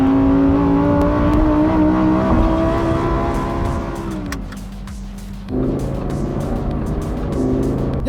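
Lamborghini Huracan STO engine revving while driving on Hong Kong roads, a loud close rising howl that dips briefly under a lift-off, then picks up again over road roar.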